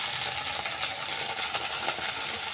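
Fenugreek leaves frying in a little oil in a pan give a steady, close sizzle with a soft crackle running unbroken throughout.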